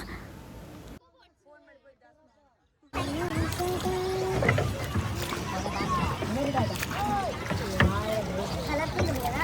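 A boat ride on the river at Prayagraj near the confluence of rivers, with steady water and engine noise, wind buffeting the microphone, and people talking over it after a brief quiet gap.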